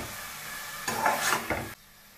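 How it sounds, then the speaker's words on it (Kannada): Chopped tomatoes frying in a pan for Karnataka-style tomato bath, a brief burst of sizzling and scraping stir noise lasting under a second, close and moderately loud, then dropping to quiet. "ಈ ಟೊಮೆಟೊ ಸ್ವಲ್ಪ ಫ್ರೈ ಆಗಲಿ ಚೆನ್ನಾಗಿ, ಒಂದು 5 ನಿಮಿಷ ಆದರೂ ಆಗಬೇಕು."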